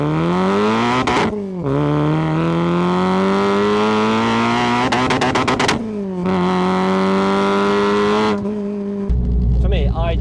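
A supercharged Renault Clio RS is driven hard on mountain roads, its engine loud and close as it revs up through rising gears, with brief gear-change dips and a rough burst at the end.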